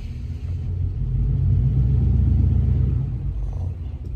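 A car pulling in to park beside a house, a steady low engine rumble that swells gently and then eases off over a few seconds, close by, with no voices.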